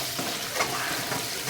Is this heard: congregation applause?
no